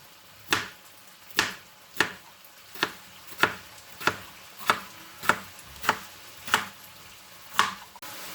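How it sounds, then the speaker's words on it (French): A knife cuts a cucumber into small cubes on a board, giving about a dozen crisp, evenly spaced chops at a steady moderate rhythm. The chops are close and clear against a quiet background. "Et là, on va les couper en petits cubes."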